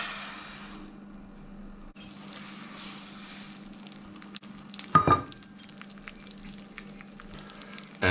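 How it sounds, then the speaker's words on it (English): Jasmine rice frying in chicken fat before going into a rice cooker gives a steady, soft sizzle with a low background hum and a brief louder scrape of stirring midway. "we're going to give our rice a bit of a fry up first before everything goes into our rice cooker"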